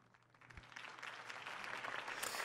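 Crowd applause in Batman: The Telltale Series, rising from faint clapping into a full, sustained ovation that keeps building.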